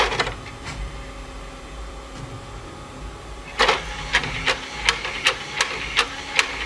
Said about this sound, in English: It's opening and closing at random like crazy